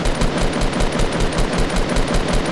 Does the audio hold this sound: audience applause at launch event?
no